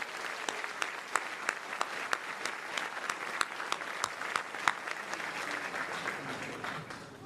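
A crowd at a high school senior awards ceremony applauds in a hall, with a sustained, even patter of many hands, some sharp individual claps standing out, heard from a moderate distance.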